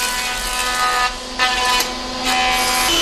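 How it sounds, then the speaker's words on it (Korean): Wood being cut to size in a traditional furniture workshop in Gyeongnam, a loud, sustained whine of a power saw biting through timber, with brief dips where the blade eases off before the harsh cutting resumes. "나무를 재단하고"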